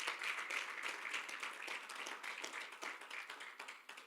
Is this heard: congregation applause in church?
yes